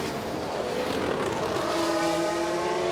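Formula 1 race cars from the F1 Manager 24 video game overtake, a loud, steady engine roar with high whining tones that rise as one car closes in and passes.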